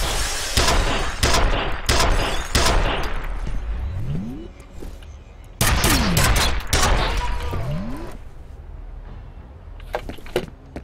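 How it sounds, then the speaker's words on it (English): Shotgun fire in F.E.A.R., loud heavy blasts in clustered bursts of repeated shots, close and booming, with a few sweeping mechanical whirs between volleys and scattered distant shots near the end. "I clotheslined that guy with that shotgun shot."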